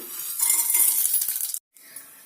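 Mustard seeds, cumin, chana dal, urad dal and cashews sizzle loudly in hot oil for an upma tempering, a bright steady crackle that cuts off abruptly, followed by a short quiet gap.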